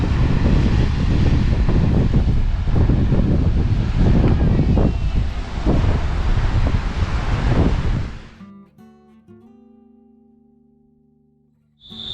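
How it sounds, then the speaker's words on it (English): Loud, continuous roar of big surf crashing against the Byron Bay coastline in Australia for about eight seconds, then dropping away abruptly to quieter tones. "It's fantastic, big angry waves."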